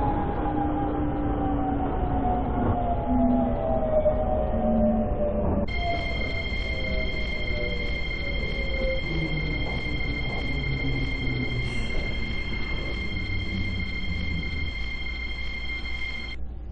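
A Seoul Metro Line 1 subway train bound for Hanam runs along the track, a steady rumbling roar with falling motor whine, then a sustained high electronic tone joins partway through and holds to the end.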